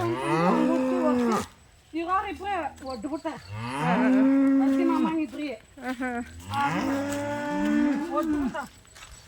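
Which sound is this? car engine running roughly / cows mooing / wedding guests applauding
cows mooing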